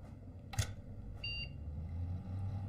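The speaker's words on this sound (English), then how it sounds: "Beep." A short electronic beep plays in the horror video game My Friendly Neighborhood. A burst of noise comes just before it. A later clean tonal chirp holds for a fraction of a second over a steady low hum, with no talking.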